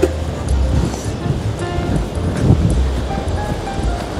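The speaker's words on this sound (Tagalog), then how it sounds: "Ang lakas ng alon." Strong ocean surf pounding against the rocky shore below a Rhode Island cliff walk, a dense, continuous roar of breaking waves with wind buffeting the microphone, close and loud throughout.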